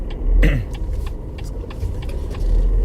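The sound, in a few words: BMW X2 car driving on highway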